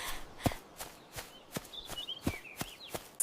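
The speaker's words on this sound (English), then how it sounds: "Run fast." Quick running footsteps land in a steady, even rhythm of light thuds at moderate distance, while birds chirp faintly in the background.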